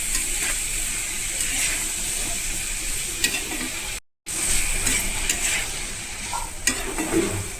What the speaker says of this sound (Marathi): चला आता आपण एक मिक्स करून घेऊया